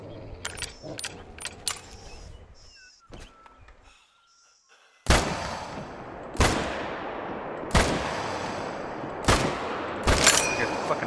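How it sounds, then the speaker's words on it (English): A series of five loud, sharp gunshots ring out at a crocodile, evenly spaced a second or so apart, each with a ringing tail, following quieter clicks and handling sounds with some talking. "Shoot that thing right now."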